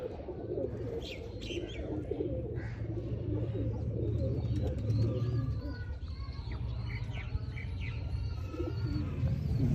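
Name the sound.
Sialkoti pigeons cooing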